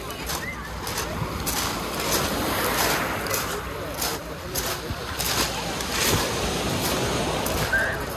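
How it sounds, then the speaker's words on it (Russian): Sea waves wash and drag over a coarse pebble beach at Koktebel, Crimea, in a steady close surge with rolling swells and a gritty hiss. Wind noise rides over it and a voice is faintly present. "Послушайте шум моря."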